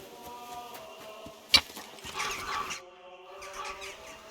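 A dog in the video game Kingdom Come: Deliverance 2 whimpers softly in short, plaintive whines against a quiet synthetic background, with a brief sharp sound in the middle.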